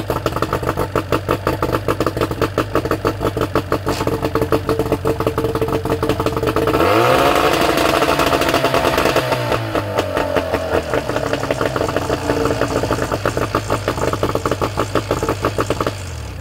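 A 1988 Mariner 40 HP outboard boat motor runs loud and close with a fast, even putter, briefly revving up in the middle before settling back to a steady idle.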